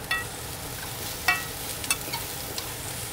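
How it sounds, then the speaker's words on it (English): Onions searing in a hot pan, a low steady sizzle broken by a few sharp scrapes and clinks as they are stirred vigorously with a utensil. "when you're doing the onions, you want to stir"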